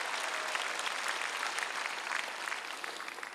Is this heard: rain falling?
no